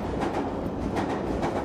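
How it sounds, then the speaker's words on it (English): A London Underground Piccadilly line train passing close by in a tunnel, a loud continuous rumble with a rhythmic clatter throughout and no voices. "In a moment, we'll probably see some Piccadilly line trains literally whizzing past us."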